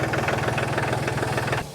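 A small tractor of about 20 horsepower with manual steering runs at a farm auction after a hard start, its engine idling close by with a rapid, even knocking pulse until it fades out at the end.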